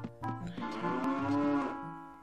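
Cows moo in the video game The Legend of Zelda: Ocarina of Time, one long, drawn-out, loud low bellow that rises and swells before fading, heard alone without talk.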